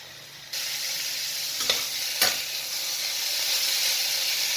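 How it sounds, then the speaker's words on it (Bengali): Boiled pointed gourd and potato tossed in oil in a pan, a loud close sizzle that jumps up suddenly and holds steady, with a couple of brief spatula scrapes. "সেদ্ধ হয়ে গেছে এটা এখন আমি খোলায় নাড়াচাড়া করবো আর তেলটা একটু বাড়িয়ে দেবো"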